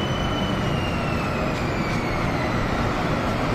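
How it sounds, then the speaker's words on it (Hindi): A Bangkok BTS metro train arrives at the station with a loud, steady, unbroken rumble and a thin high whine riding above it, close by and with no talk over it. "ये जो BTS या मेट्रो कह सकते ये आए हैं"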